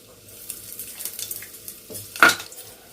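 Cumin seeds, dried red chillies and asafoetida sizzle softly in hot oil, with faint crackling, a few utensil scrapes and a sharper clatter near the end.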